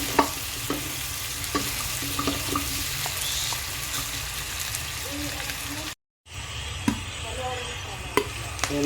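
Softened pork chop pieces frying for kaldereta, stirred in a pan with a steady, close sizzle and occasional clicks of the utensil, with a brief gap partway through.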